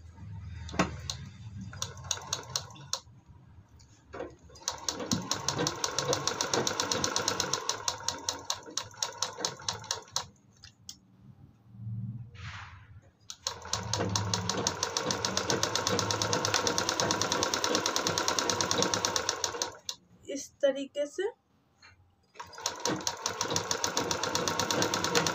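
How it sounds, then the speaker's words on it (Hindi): Sewing machine stitching along a doubled fabric strip for a latkan tassel, running in several long steady whirring bursts separated by short pauses, close and fairly loud with no talk. "पूरे पे सिलाई लगा देना है। तो वो सिलाई को लगा देती हूँ।"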